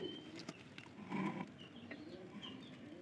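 A pigeon coos softly in a brief, low murmuring call, faint and close against a quiet background with a few small chirps around it.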